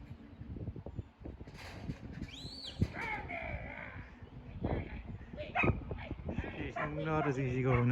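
A young female sheepdog whimpers and yips in short, high bursts, close by, with someone talking over and between the cries.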